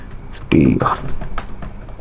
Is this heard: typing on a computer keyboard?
yes